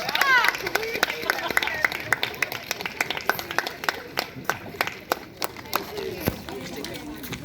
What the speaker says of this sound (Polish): Brawa dla wszystkich.